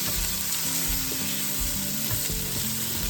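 Food searing in a hot pan, a dense constant sizzle with low rhythmic thumps and scrapes from the pan or utensil running underneath.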